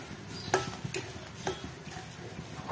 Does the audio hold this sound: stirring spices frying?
yes